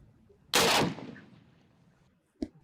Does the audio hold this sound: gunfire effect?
yes